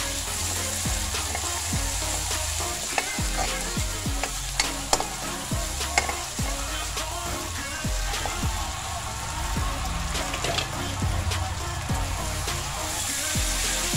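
Meat sizzles in a hot pan for ampalaya con carne, a loud steady frying hiss broken by frequent scrapes and clacks of a utensil stirring.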